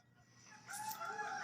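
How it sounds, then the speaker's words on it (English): A rooster crows once, a single rising cock-a-doodle-doo heard at moderate distance and fairly faint, with no voices over it. "I heard a sound of chicken"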